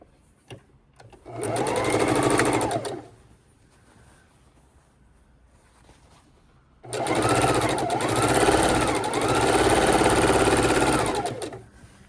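A sewing machine stitches borders onto a quilt top in two steady runs, a short one and then a longer one, with a brief quiet pause between them.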